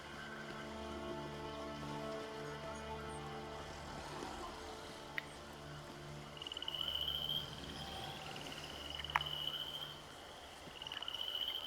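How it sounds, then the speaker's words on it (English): Frogs croaking beside a small pond in The Elder Scrolls Online, steady faint ambient chirring and croaks layered with a low drone and occasional bright chirps, calm and continuous. "Frogs."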